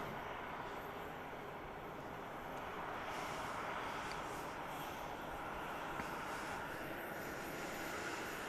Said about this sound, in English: This is flight 493, a MAX 8. It's headed to Los Angeles.